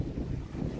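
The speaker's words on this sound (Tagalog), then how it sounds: "Lakas ng hangin eh." Strong wind buffeting the microphone at an outdoor pigeon loft, a constant low rumbling roar that fills the moment without breaks or voices.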